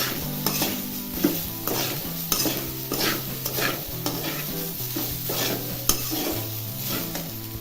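Sabudana sizzles steadily in a pan while a spoon scrapes and stirs it in repeated strokes, with a sustained musical tone running underneath throughout.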